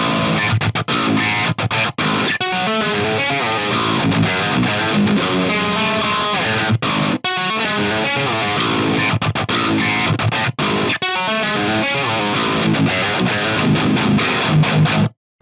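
Heavily distorted electric guitar played through the Mercuriall Euphoria amp plugin, bright B2 channel with boosted mids, chugging riffs and sustained chords at a steady loud level with no pauses.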